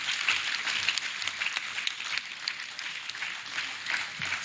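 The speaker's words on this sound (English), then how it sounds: "let's give him a rousing round of applause" Audience applause at a Nigeria Reputation Management Group unveiling event, sustained even clapping from a crowd, moderately faint and continuous throughout.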